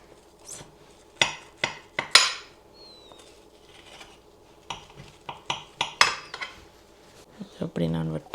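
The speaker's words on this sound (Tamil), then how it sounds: "எப்படி நான் வெட்டுறேன் அவ்வளோ கிறிஸ்பியாக உங்களுக்கு சத்தம் கேட்குதுங்க" Knife cutting through a crispy cake: scattered crisp crunching and clinking knife strokes, some in quick bursts, fairly close and quiet, with a brief voice near the end.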